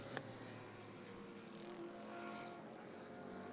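A Porsche GT race car at Suzuka during the 10-hour Intercontinental GT Challenge event accelerates along the straight, a sustained, rising engine roar with a steady harmonic drone, fairly faint and distant, with no talking.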